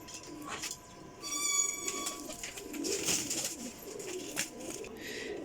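Kasuri high-class pigeons coo in a loft, soft throaty calls repeating near and at middle distance, mixed with wing flutters and rustling, while faint voices carry in the background.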